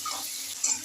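Potatoes, salted and dusted with turmeric, fry in hot oil for a Bengali aubergine and potato dish. A steady, soft sizzle runs for under a second with a faint crackle near the end.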